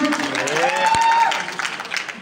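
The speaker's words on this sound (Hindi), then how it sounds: "प्लीज ताली होनी चाहिए" A cinema audience in Karachi applauds during a film cast visit, a dense, continuous patter of clapping under crowd noise and overlapping talk, with a raised voice rising above it.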